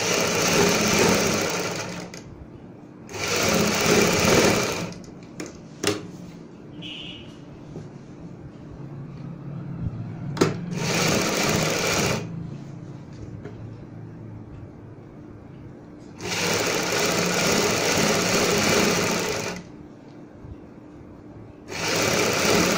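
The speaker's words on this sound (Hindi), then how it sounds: "अभी हमें सिलाई बाहर की साइड लगानी है और इस तरीके से मिलाते हुए लगानी है।" Sewing machine stitching fabric pieces together for a neck design, running in several loud whirring bursts of a few seconds each, separated by quieter pauses with light handling clicks.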